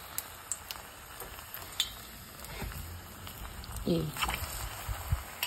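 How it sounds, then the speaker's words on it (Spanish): Plantain pieces dropped into hot oil in a pan: a soft sizzle and crackle with scattered scrapes and taps, building slightly toward the end, with a brief word of speech. "poner las partes de plátanos en el aceite caliente"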